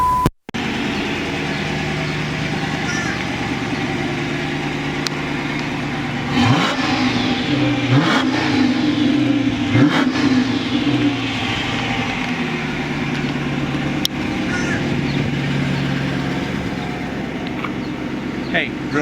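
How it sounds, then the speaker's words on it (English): A 2014 Dodge Challenger R/T Shaker engine fires up after a brief crank, then idles with a deep rumble and revs several times, loud and close. "I need to start it for you so you can hear this fabulous car."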